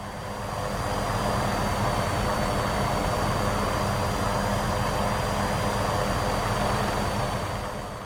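A helicopter in an Xbox flight game, flying and setting down at the UCLA Medical helipad, gives a steady, loud rotor and engine drone that runs unbroken through the whole stretch with no talking.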